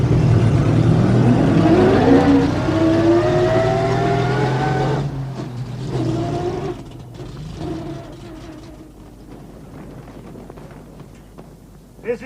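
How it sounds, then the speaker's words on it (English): An older motor vehicle engine leaps into life in a wartime family drama, a loud rough rumble with rising revs over the first few seconds, then settling to a fainter idle that fades toward the end. "The mighty engine leaps into life!"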